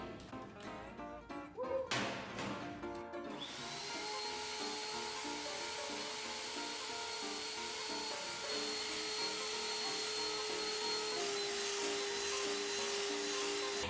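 An electric mixer beats eggs and sugar for a Korean lunch box cake, a steady whirring motor hum that settles into an even drone after a few clattering knocks at the start.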